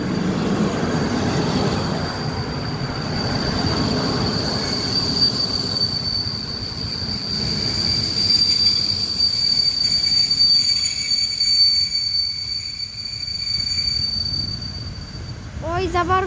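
A long freight train rolls into Wołomin station, its wheels squealing loudly with a sustained high-pitched screech over continuous rumbling and clatter, building and fading along the train's length, with faint voices in the background.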